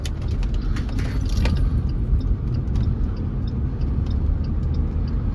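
A 2011 Saab 9-3 Turbo 2.0T merging onto an interstate, heard from inside as a loud steady engine and road rumble that fills the cabin throughout, with a faint jingle of keys.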